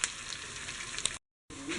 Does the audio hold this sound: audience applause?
no